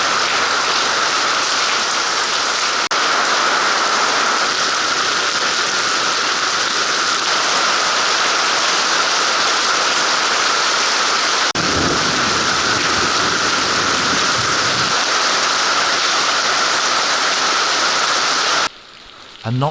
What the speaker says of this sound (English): But we started off with some very, very heavy rain.